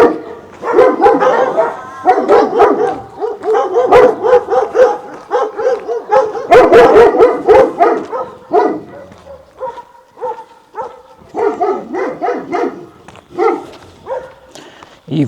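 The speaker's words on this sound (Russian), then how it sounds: "Прикиньте, сколько надо кормить этих собак." Several dogs bark repeatedly in an abandoned village, with overlapping loud barks and yips coming in irregular bursts close by. A few quieter gaps fall between them, and no one talks.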